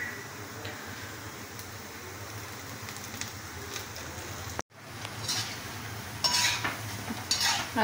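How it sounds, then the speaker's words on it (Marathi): Bhaji batter of onion and potato being stirred in a bowl, a soft continuous scraping and squelching that runs steadily with a brief gap midway, against a faint sizzle of frying in the background. "हे बघ, त्यांना असं मिक्स करायचं."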